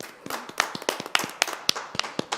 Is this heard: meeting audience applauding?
yes